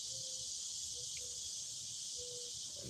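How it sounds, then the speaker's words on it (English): A constant high-pitched insect drone fills the background, steady and shrill, with a few faint short tones breaking through now and then. "The cicadas are out."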